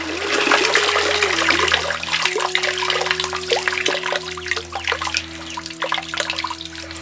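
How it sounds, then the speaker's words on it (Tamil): Water pours and splashes steadily over urad dal being washed for jangri batter, a loud continuous trickle with a faint hum underneath. "ஒரு முறைக்கு 2 முறையா தண்ணி ஊத்தி சுத்தமா கழுவிடுவோம்"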